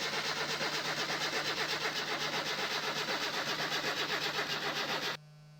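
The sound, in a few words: project car engine cranking on start, from video game My Summer Car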